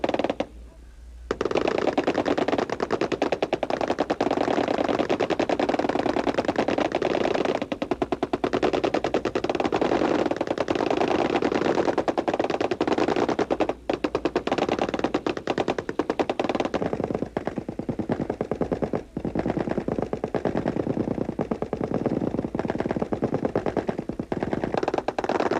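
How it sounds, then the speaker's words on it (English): An M60 machine gun fires at a US Army basic training range at Fort Leonard Wood. Loud, sustained automatic bursts continue nearly without pause for about twenty-five seconds, with only brief breaks, and no talking is heard. "waiting for the firing of the M60 machine gun"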